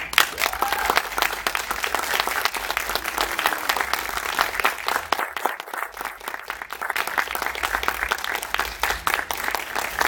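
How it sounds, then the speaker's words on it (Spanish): Audience applause at a children's literature festival in Mexico greets an illustrator, a loud, sustained patter of many hands clapping that runs for the whole stretch with only a brief dip in the middle. "Les pido un fuerte aplauso para El Fisgón."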